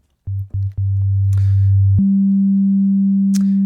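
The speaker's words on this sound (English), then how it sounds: "we're gonna get rid of the red oscillator and only listen to the blue oscillators." Pure synthesizer oscillator tones in Bitwig, a few short low blips then a steady sustained tone that jumps up in pitch and holds, clean and loud, no voices.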